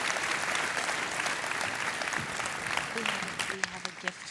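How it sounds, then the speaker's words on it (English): A keynote audience at a leadership conference applauds Tony Conza, founder of Blimpie, with sustained crowd clapping while voices speak over it toward the end. "A round of applause for Tony Conza."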